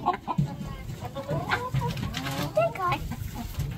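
Backyard chickens, one of them egg-bound, clucking in short, irregular bursts close by, with soft voices in the background.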